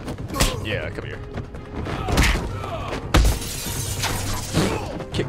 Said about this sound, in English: Kick that boy into the glass.